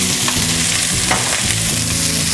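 Vegetables land in hot, garlic-scented oil for a chicken noodle stir-fry, setting off a loud, steady sizzle with stirring scrapes throughout, close up and with no talking.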